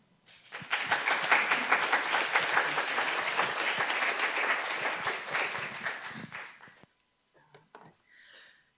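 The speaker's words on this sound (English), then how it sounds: "We applaud you." Applause at a mural dedication for an inclusivity in science public art piece: a dense burst of clapping from a gathered audience swells quickly, holds for about six seconds, then stops abruptly, followed by a few faint sounds.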